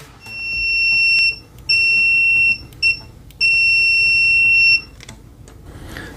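An OWON XDM1041 bench multimeter's continuity beeper at maximum volume gives loud, piercing steady tones in several bursts of varying length, close up with a quiet background.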